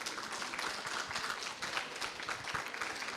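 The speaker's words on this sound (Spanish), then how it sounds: "Un aplauso ahora sí, por favor." An audience applauds at a book presentation at a book fair, a steady patter of many hands clapping at moderate volume that fills the whole brief stretch without anyone speaking.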